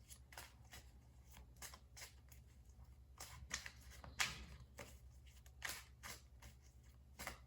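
Crisp, rhythmic riffling of tarot cards being shuffled up close, in repeated quick bursts over a low steady hum, with no talking.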